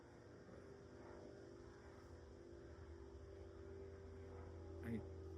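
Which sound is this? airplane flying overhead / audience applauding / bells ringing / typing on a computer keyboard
airplane flying overhead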